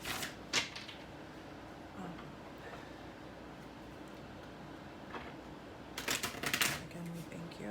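Tarot cards are shuffled in short riffling bursts, one early and a longer flurry near the end, with a quiet room between.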